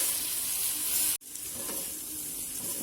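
Hakka noodles being stir-fried with masala in a pan make a steady hiss and sizzle, broken by one abrupt cut before the frying noise resumes a little softer.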